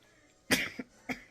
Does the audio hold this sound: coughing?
yes